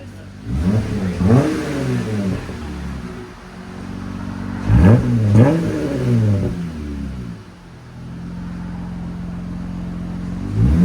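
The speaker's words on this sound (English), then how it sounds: "Just a simple muffler delete on these Gladiators, guys. Sounds really nice." A Jeep Gladiator 3.6L V6 with a muffler delete revs hard twice, its exhaust rising to a loud rumbling snarl with each blip, then settles back into a steady deep idle.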